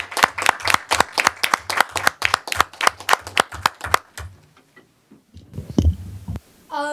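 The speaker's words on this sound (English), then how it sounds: "Let's give them a nice round of applause" A small audience claps at a board of education meeting. The sparse handclaps are crisp and close, with individual claps distinct in a quick, uneven rhythm for about four seconds before they stop and some shuffling follows.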